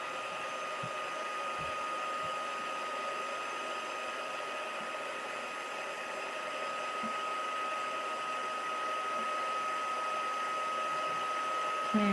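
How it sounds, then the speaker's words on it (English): A heat gun blows hot air to melt embossing powder during a Christmas card-making session, producing a steady, close, whirring rush with a faint high whine that holds constant throughout and rises slightly toward the end. "Let's get our heat gun here. Heat tool."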